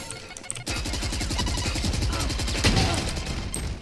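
Rapid gunfire crackles in a Valorant match, a dense run of close shots rattling for several seconds after a brief pause, with a sharp burst near the end and faint player chatter underneath.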